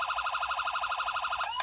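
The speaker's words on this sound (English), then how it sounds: "This got a 4-tone siren." A toy Ford Crown Victoria police interceptor siren cycles through a rapid warbling electronic yelp, steady and loud, then switches abruptly to a rising tone near the end; no voices.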